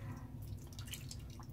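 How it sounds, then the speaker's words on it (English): Water being poured into a shaving cup during a wet-shave routine: a brief, faint trickle and drip, quiet and close. "Take Le Bloom Water, pour it into my cup."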